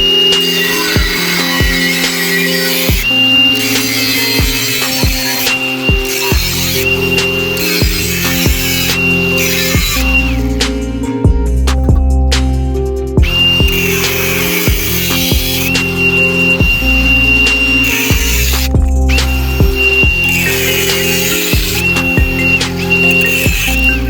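Power tool cutting through an E36 exhaust manifold in a home garage, a loud continuous grinding drone with shifting pitch that runs steadily for the whole stretch, close and without talk.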